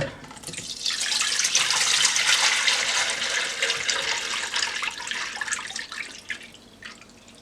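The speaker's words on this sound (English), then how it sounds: "I'm pouring my palm butter" Thick palm butter pours steadily into a pot with a bright, splashy gush that tapers off toward the end; no voices.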